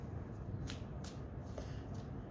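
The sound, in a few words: shuffling tarot cards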